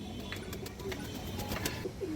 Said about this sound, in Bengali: সবজি মুসলদম চুইঠাল নিউ আডাল মাদি কবুতর